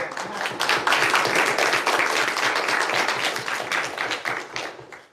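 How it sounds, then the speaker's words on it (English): Audience applause at a weekly student senate meeting, dense steady clapping from many hands that holds for about five seconds and then quickly dies away, with no talk over it. "All right, clap this up."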